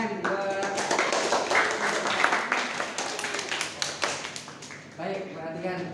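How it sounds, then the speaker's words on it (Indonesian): Students in a classroom applaud together, producing dense, steady clapping that is close and fairly loud. Voices murmur underneath, and the clapping tapers off near the end. "Tepuk tangan buat."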